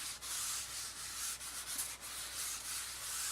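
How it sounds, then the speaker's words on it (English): Steady dry rubbing of a cloth or pad wiped across black cardstock, continuous and close with slight dips in pressure, no voices. "I'm going to wipe down my black cardstock."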